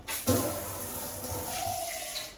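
Water runs from a tap while a dog is washed during grooming, a close, steady splashing flow that starts abruptly and keeps going without talk.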